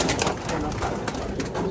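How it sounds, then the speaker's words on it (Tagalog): A caught pigeon coos softly and close by, its low murmuring calls set against a noisy outdoor background. "So ito na yung ibon na huli na natin"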